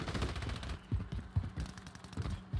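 Gunfire in the video game Call of Duty MW3 (Fortune's Keep): a string of rapid, muffled bursts and thuds crackles through the game's background noise, with several heavier shots spaced irregularly.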